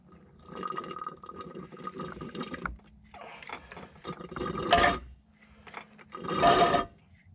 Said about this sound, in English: Just gonna make sure I pump all the diff fluid in there.